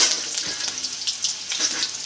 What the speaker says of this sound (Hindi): पियाज पकईदबा